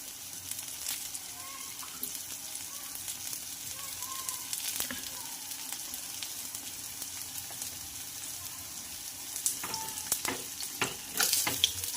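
Jowar appe sizzle and fry steadily in an appe pan over low heat, with a continuous crackling hiss and a few brief scraping clicks toward the end as the appe are turned.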